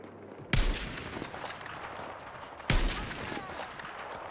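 Two sharp, loud gunshot-like blasts in the video game Battlefield 6 go off a couple of seconds apart, each followed by a rumbling tail, with scattered smaller clicks between.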